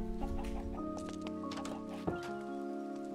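Chickens cluck in a survival video game at sea, several short overlapping clucks repeating over a steady background drone, faint and without speech.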